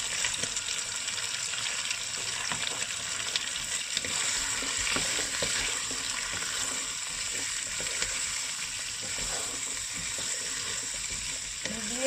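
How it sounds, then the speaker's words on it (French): Chopped onions fry and sizzle in a pan while peanut-sauce sautéed spinach is being cooked, giving a steady, close crackling hiss that runs unbroken throughout with faint stirring scrapes and no talk. "Maintenant, nous ajoutons nos oignons déjà découpés."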